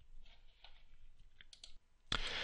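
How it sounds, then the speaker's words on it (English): A computer keyboard key is pressed, giving soft scattered clicks followed by one sharper, louder key strike near the end, close and alone with no talk. "then hit the delete key on the keyboard"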